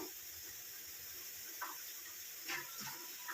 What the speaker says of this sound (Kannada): ಉಪ್ಪು ಹಾಕ್ಬಿಟ್ಟು ಸ್ವಲ್ಪ ನೀರು ಹಾಕೋಬೇಕು